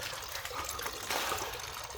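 Fluid draining out of the engine of a crashed, damaged Audi S6 V10 after a minor accident, a close steady trickle and splash of liquid with no talk.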